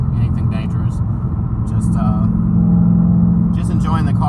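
A 2019 Ford Mustang Bullitt V8 rumbles steadily as it drives through light traffic in Texas, a loud, continuous low growl heard from inside the cabin with brief higher noises passing over it.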